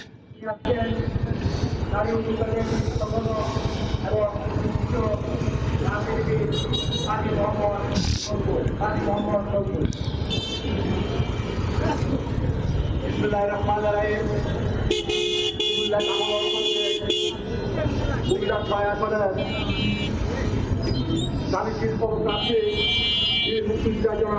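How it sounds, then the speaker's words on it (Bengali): A road traffic jam with car engines rumbling and horns honking in short and sustained blasts, under almost continuous close talking throughout. "এই জ্যামটা একটু ক্রস করে বের হই"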